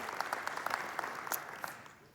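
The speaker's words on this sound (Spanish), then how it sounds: "Den un aplauso a primeras impresiones porque son fantásticos" A church congregation at a Spanish-language service applauds the welcome team with dense, steady clapping that gradually fades toward the end.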